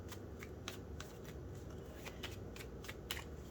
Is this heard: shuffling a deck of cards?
yes